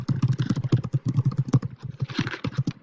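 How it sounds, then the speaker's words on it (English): Rapid keystrokes on a computer keyboard while composing an email in Gmail, a close, steady clatter of individual key taps in quick uneven rhythm. "this is where you type your message"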